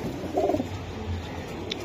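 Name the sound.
Giribaz pigeons cooing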